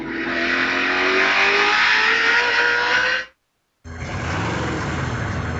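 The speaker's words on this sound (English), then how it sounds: "Travis Quapple in his Toyota out in front of the field" A Toyota race truck engine at full throttle in the 2004 Kroger 200, a loud sustained roar with rising pitch as it passes, then a brief cut to silence before more engine noise resumes.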